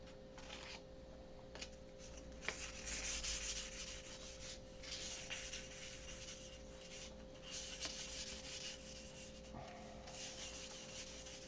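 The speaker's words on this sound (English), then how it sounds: "so take and sand it out." Sanding of a model aircraft inking tool, an 18-inch ruler used for drawing wing lines, to remove glue gobs; a steady close rubbing scrape with rhythmic strokes, continuing alone without talk.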